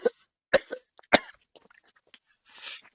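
A man coughs a few times in a short burst, close and fairly loud, followed by a throat clearing and a breathy rasp, with no talking.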